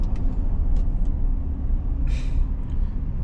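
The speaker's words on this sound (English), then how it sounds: "thought that car was gonna hit me" A car rushes past very close on a road, a heavy low rumble filling the moment, with brief hissing bursts from the traffic.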